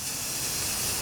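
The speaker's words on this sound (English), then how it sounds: "I'm just going to spray a light coat on it" An aerosol can sprays clear coat onto a pathway solar light panel, a close, steady, bright hiss lasting the whole moment without pause or talk.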